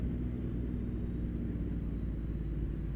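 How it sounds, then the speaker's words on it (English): A heavy truck in American Truck Simulator rolls along with its engine (Jake) brake engaged, a steady, dense low rumble and drone holding unchanged throughout with no talk. "just let you guys enjoy the sounds of American Truck Sim."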